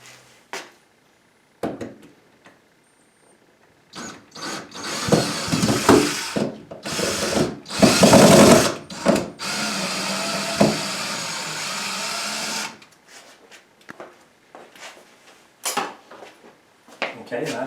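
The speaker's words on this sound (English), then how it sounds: "we're going to take that screw out as well" A power drill backs a screw out of a kitchen cabinet fixed into a beam, its motor whirring in sustained loud bursts with some wooden knocking and shuffling, while a person talks around it.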